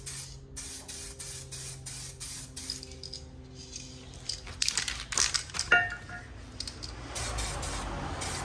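Aerosol spray paint applied in light coats to brake calipers on a Jeep Grand Cherokee, close up: a run of short, evenly spaced spray bursts, then longer hissing passes.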